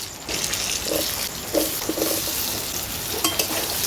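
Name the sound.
potato pieces stirred and frying in spiced oil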